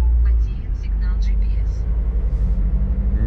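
A car slows and brakes to a stop outside a shop in Nizhneudinsk, its low engine rumble steady and close beneath continuous talking.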